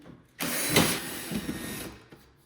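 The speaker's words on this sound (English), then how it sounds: "I'm gonna remove the screws in the corner, 2 in total, Phillips head 2." Phillips head screws are driven out of the corner of an oven door, heard as a single close motorized whirr lasting about a second and a half, with quiet handling before and after.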